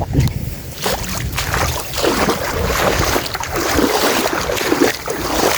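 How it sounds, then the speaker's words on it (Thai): Rainwater flows through a flooded rice field during a downpour, giving a continuous broadband rushing and splashing wash that stays fairly loud and steady throughout, with no voices. "น้ำไหลแท้ได้เนาะ"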